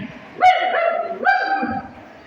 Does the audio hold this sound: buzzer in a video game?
no